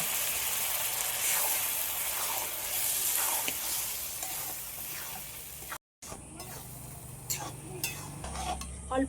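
Dal and potato tipped into fried masala in a pan, a loud steady sizzle with stirring and utensil scrapes, then a brief cut followed by quieter spoon clinks and frying.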